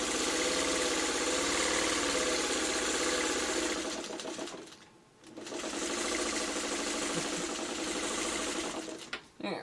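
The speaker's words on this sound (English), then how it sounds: "Now I'm just going to sew gently along." A sewing machine stitching quilt block fabric runs in a steady, rapid mechanical whir, pauses briefly, then resumes, close and fairly quiet with a person's voice speaking over it.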